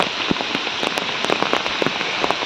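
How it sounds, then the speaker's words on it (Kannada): Heavy rain pours steadily and close by, with dense drops pattering and splashing on a hard surface. "ഇനി ബർസല ജോർ ബറന്നുണ്ട്"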